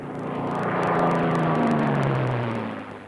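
A propeller-driven warbird airplane climbs just after takeoff, its engine droning loud and steady, swelling and then easing slightly toward the end, with no talk over it.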